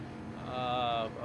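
A car engine over-revving in Gran Turismo 7, a rising high-pitched engine whine that holds briefly at the limiter and then drops off, close and fairly loud over a low background rumble.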